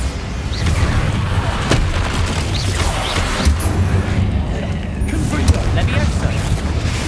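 Bombarda explosion spell in Hogwarts Legacy, loud booming blasts and crashing debris rolling over several seconds amid ongoing combat noise, with voices heard during the fight.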